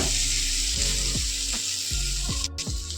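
Potatoes sautéing with spices in a pan for chickpea ghughni, a steady close sizzle with repeated scraping strokes of a spoon through the mixture, no talking.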